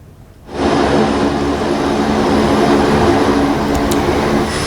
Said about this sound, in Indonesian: TNI mengoperasikan pesawat Hercules untuk mengangkut material tower emergency bagi pemulihan kelistrikan Aceh